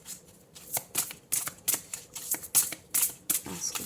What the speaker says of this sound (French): Alors, on va demander d'autres cartes.